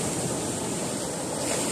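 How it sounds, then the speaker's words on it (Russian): Stormy Baltic Sea surf at Svetlogorsk in the Kaliningrad region crashes continuously as a loud, dense roar of breaking waves, with wind noise buffeting the microphone and no voices. "как море разбушевалось"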